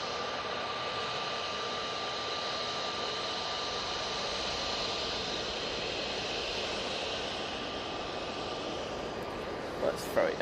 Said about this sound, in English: easyJet has obviously got a slot. It's just come onto the runway.